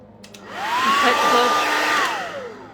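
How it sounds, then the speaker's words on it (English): A hair dryer set on hot and high switches on and whirs with a steady airy roar and high whine for about two seconds before winding down. "Put the blow dryer on hot and high and hold it on there."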